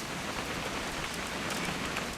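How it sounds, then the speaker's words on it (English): Steady rain in the video game What Remains of Edith Finch, a dense, even hiss of drops on surfaces with no pauses, moderately loud. "It's gonna rain the whole weekend, isn't it?"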